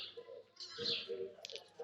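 Wood pigeons calling in a quiet Spanish town: soft, repeated cooing at a moderate distance that rises and falls over a faint background of chirps and light town ambience.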